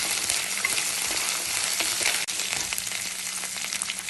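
Curry leaves, ginger and garlic fry in a pan for a Kollam-style fish curry, making a close, lively crackling sizzle with a few sharp pops and stirring scrapes.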